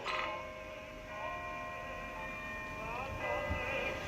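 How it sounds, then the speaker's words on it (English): A distant clock tower bell strikes with lingering ringing tones in a seacoast town, waves lapping softly beneath as a low continuous wash, quiet and far off. "A clock striking and waves lapping."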